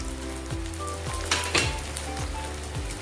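Tofu pieces frying in very hot oil for crispy tofu, a steady dense crackle and sizzle with a few louder spatters, close and continuous with no talking.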